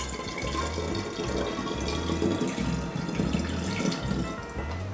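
Simple syrup pours steadily into a measuring cup, a continuous close liquid trickle and splash running the whole time with no talking.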